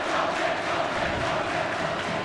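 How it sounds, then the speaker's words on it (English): A high school boys' basketball crowd at Aquinas vs. Rockhurst cheers loudly and steadily in a gym, a dense, sustained roar of many voices without a break. "The crowd now cheering for Joe Loafman to go into the game."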